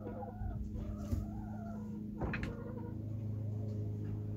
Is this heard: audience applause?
no